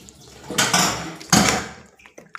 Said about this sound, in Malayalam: ഇനി വെള്ളം ഒഴിക്കേണ്ടി വരും.